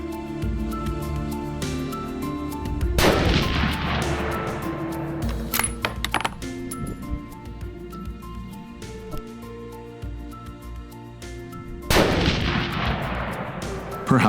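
Hunting rifle shots ring out during a hunt in Bukovets, Bulgaria: sharp, loud gunshots at irregular intervals, each followed by a long echoing decay, with clinking and handling noises between them.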